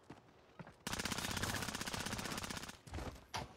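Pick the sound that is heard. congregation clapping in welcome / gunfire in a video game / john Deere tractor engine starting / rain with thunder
gunfire in a video game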